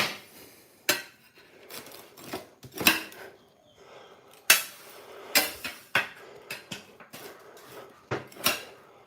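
Homemade pizza is cut up on a hard surface, sharp knocks and clacks of a cutter or knife against a tray in irregular bursts, close and fairly loud with quiet gaps, no talking.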